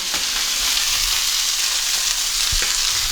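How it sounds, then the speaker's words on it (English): A roast browning in a hot pan gives a steady, loud, close sizzle throughout, with a few brief clunks of movement and no talking. "So I'm gonna give that roast a quick brown."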